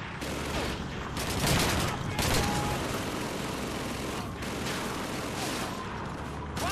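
Pistol rounds and surrounding gunfire from a World War II battle in Call of Duty 2, dense overlapping shots with brief louder bursts, steady and close throughout the clip.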